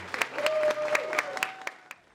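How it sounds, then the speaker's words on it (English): Light applause from a small audience at a Women In Business awards event, a handful of separate sharp claps over a soft sustained tone, with no voices. "please give a round of applause to Councilwoman Toya Tucker"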